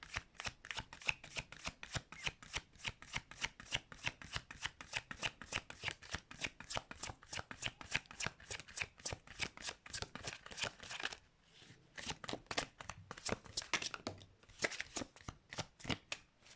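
Tarot cards shuffled in a rapid, steady riffle of crisp papery flicks, close and alone, with a brief pause partway through before the shuffling resumes.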